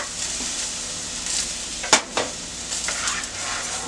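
Lamb browning in a sizzling pan while being stirred, a steady close sizzle with a sharp clink of a utensil against the pan partway through.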